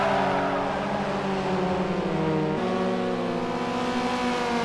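Race car engines from the game Forza Motorsport 4 drone steadily throughout, a close, loud sustained whine whose pitch shifts as the car changes gear partway through, with no talking over it.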